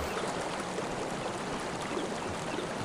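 A small waterfall in the kayaking VR game Whitewater VR: a steady, even rush of splashing water, constant and moderately loud with no pauses or voices.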